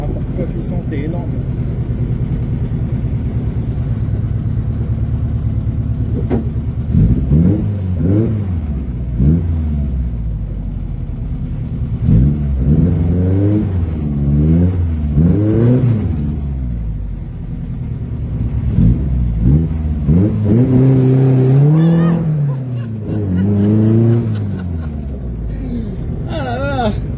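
A Vespa 400 microcar on a July 14 drive with the Carbus Landais club: its small engine drones steadily and climbs in repeated revving surges as it accelerates through gears, heard from inside the car.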